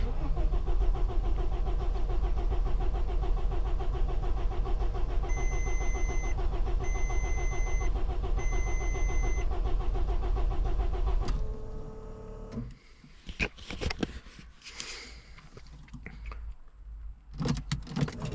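A car engine cranks steadily at length with a droning, pulsing starter rhythm and a few beeps partway through, but it never catches. Then it cuts off into quieter clunks and rattles, with brief muttered voices.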